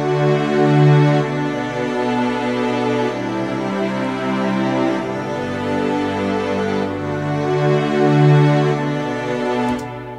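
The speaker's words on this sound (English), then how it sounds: "So the strings with the cello sound like this." Sustained string section with cello in a home-studio prog rock arrangement, smooth, legato chords shifting slowly with a warm low line beneath, full and alone without talk.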